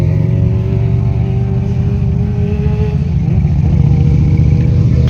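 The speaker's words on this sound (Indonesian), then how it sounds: "Rombongan motor yang meliuk-liuk mengikuti kontur dan juga bentuk jalannya." A group of motorcycles winds along a curving hillside road on the slopes of Gunung Tilu, producing a continuous loud engine hum with some revving and light clatter, with no talk.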